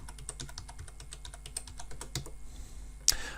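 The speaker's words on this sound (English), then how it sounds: "now I can type in its IP address" Rapid keystrokes on a computer keyboard enter an IP address into a web browser's URL bar, close up and crisp, ending in a pause and one sharper key press.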